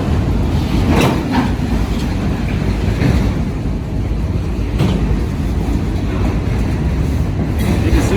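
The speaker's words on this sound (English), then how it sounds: "This is a huge train." A long freight train carrying automobiles rumbles past continuously and close by on a street, its low roar steady throughout with faint rhythmic clacks from the wheels.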